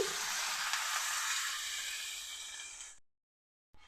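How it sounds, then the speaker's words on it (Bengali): A pan of sautéed spices and vegetables for a rohu fish curry hisses and sizzles loudly and steadily as water is poured in, then cuts to silence before a brief burst returns at the end. "এখন আমি পরিমাণ মতো জল দিয়ে দিচ্ছি"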